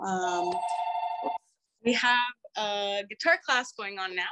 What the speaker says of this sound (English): that's a phone ringing because I'm in an office